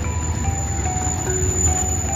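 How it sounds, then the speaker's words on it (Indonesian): A track-laying machine pulls flat rail wagons loaded with sleepers and rails on the Jakarta-Bandung high-speed railway construction site, giving a steady, loud mechanical rumble with a faint high whine and occasional tonal squeals, with no talk. "inilah trek layang mesin yang dipakai untuk pemasangan bantalan-bantalan rel"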